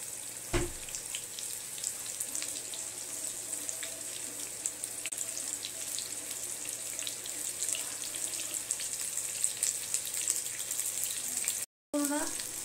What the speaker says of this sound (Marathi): हे कारली आता त्या ही का मागे सर ही कारली आता ह्याच्यामध्ये सोडणार आहोत. आपण चांगली परतून देणार आहोत.